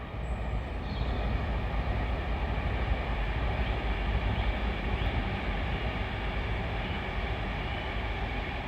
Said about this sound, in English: Plenty of trains,